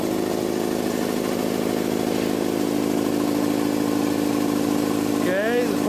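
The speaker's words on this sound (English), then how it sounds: "we're going to turn this compressor on and allow it to run up to pressure." A Jenny air compressor runs up to pressure, its pump motor droning loud and steady at close range, with a brief shift in tone near the end.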